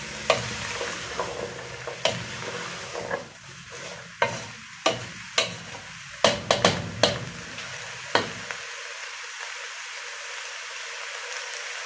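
A sofrito for Peruvian chicken picante sizzles in a pan, with repeated sharp knocks and scrapes of a spoon stirring it close by, before the frying fades out near the end.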